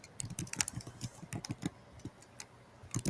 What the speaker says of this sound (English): Can hear that typing.